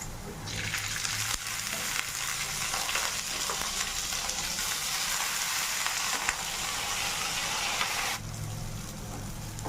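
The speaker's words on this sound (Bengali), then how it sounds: "এখানে চালটাও সুন্দরভাবে ভাজা হয়ে গেছে" Basmati rice frying with carrots in a pan makes a steady, close sizzle that holds for about eight seconds, then drops back to a quieter hiss with a low hum underneath.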